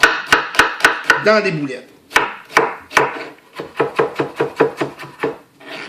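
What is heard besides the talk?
knife chopping an onion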